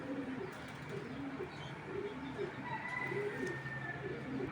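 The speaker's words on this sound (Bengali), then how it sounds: "এটা মাদি কবুতর" Soft, repeated cooing of a female racing pigeon in a steady rolling rhythm, close by, with faint bird chirps and low background noise.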